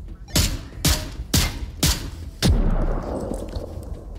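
Gunfire and a frag grenade blast in the VR shooter Onward: four sharp, evenly spaced shots land about half a second apart, then a heavier boom follows with a long rumbling tail that fades slowly.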